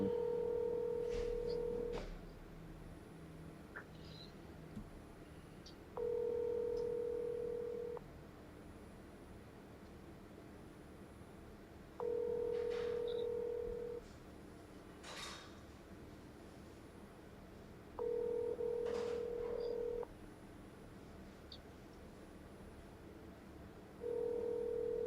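An outgoing phone call rings through on the other end: a steady two-tone ringback pulse about two seconds long repeats four times with longer quiet gaps between, and no one speaks.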